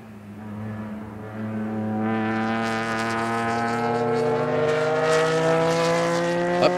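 Vintage race cars on the Indianapolis track, among them a six-cylinder Porsche 914, drone past in a steady engine note that builds and holds at a loud, sustained pitch.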